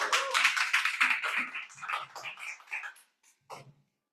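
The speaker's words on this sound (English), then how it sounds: "Please give applause to" Brief applause from a small group at a Toastmasters meeting, close and fairly loud, tapering off after a few seconds into scattered claps.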